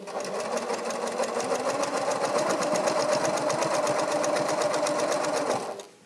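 Sewing machine stitching through patterned fabric, a fast, steady mechanical whirr with rapid needle ticking, close and continuous for several seconds before stopping abruptly.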